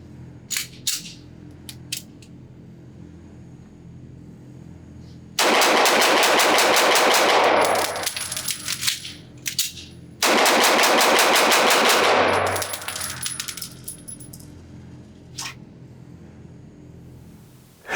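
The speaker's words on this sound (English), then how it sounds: "let's see how hard it is with this gun and how fast I can shoot it" A West German factory nickel-finish Sig Sauer P228 pistol fires two fast, loud strings of shots, separated by a short pause for a magazine change, with scattered quieter clicks and handling noise before and after.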